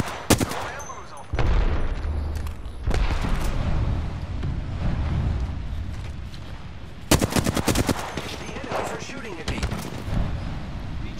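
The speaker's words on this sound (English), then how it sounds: "Shots fired." Gunfire in a shooter video game: loud bursts of rapid automatic fire open and return later in dense volleys, with a continuous rumble of battle noise in between.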